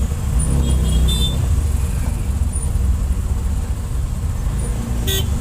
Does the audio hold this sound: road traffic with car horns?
yes